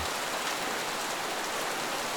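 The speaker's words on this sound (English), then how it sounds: "Through the window, the world keeps raining." Steady rain pours over the streets of Paris, a dense, even hiss of drops on wet pavement and surfaces that holds close and constant from start to finish with no voices.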